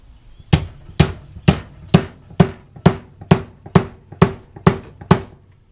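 A seal driver tapped with a hammer to seat a fork seal on a Honda Goldwing: eleven sharp, evenly paced metallic knocks about half a second apart, close and solid, with no talking.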